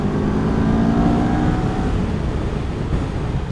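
A CF Moto 650NK motorcycle accelerates in third gear, its engine note steady and loud throughout, mixed with heavy wind rush from strong gusts.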